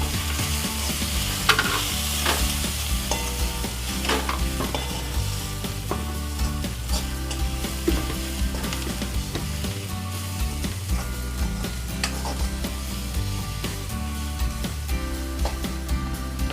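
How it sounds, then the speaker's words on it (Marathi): Spices such as red chili masala and garam masala being stirred and fried in a pan for a quick egg masala: continuous close sizzling with repeated scraping strokes of a spoon, no talk. "आता आपण मिक्स करून घेऊया।"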